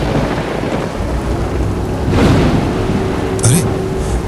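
Storm sound effect for a Hindi horror story set at a graveyard: a loud rumbling wash of thunder and rain with wind buffeting, a swelling roll midway and a sharp burst near the end.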